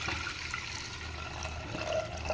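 Little millet grains being washed by hand in water, a continuous soft swishing and sloshing of liquid, close and fairly quiet, with no talk.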